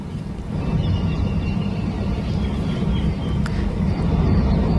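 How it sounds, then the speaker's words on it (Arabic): A drone launched from Lebanon flies over Haifa Bay, heard as a continuous low engine rumble with a broad rushing hum that holds steady for several seconds. "هذه المشاهد لمسيرة أطلقت من لبنان اجتازت مروحية عسكرية"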